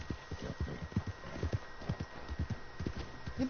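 A horse's hooves clip-clop in a quick, steady rhythm in the Star Trek Online video game, close and clear over a faint background hum, with no talk over them.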